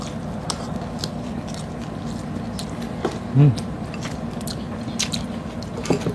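Crispy fried pork skin chicharon bulaklak being bitten and chewed up close, soft crunching under a steady background hiss, with one louder bite partway through.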